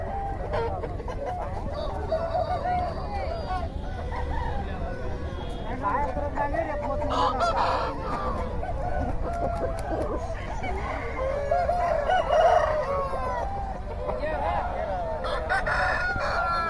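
Native chickens cluck and a rooster crows amid the bustle of a village poultry market, several birds calling near and far while people talk throughout.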